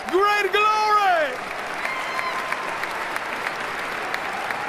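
A crowd claps at a rally during an inauguration-day gathering, a sustained even patter of many hands heard alongside a loud voice that dominates the opening second or so.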